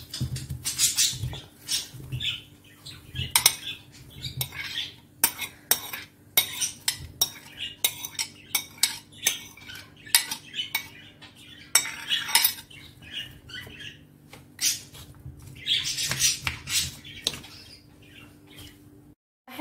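Sliced onions go into a pan of cooking carrots and are stirred with a utensil, giving rapid close scraping, clinking and tapping sounds over a low steady hum, with no one speaking.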